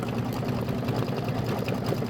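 An embroidery machine stitches a gingerbread design, giving off a close, steady rapid whirring chatter with an even needle rhythm throughout.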